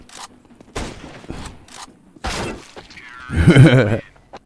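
Bursts of gunfire from the video game Counter-Strike 2, several sharp shots spread across the moment, ending in a louder, denser volley, with a player's voice between the shots.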